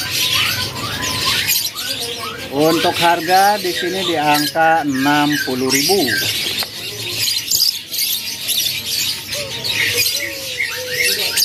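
Puter doves, collared doves, call from a kiosk at a bird market, with squawking, cooing bird calls rising in the middle of the stretch amid market bustle and someone talking.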